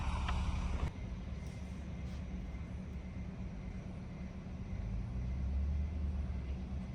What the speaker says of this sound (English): Okay, the bus has just arrived.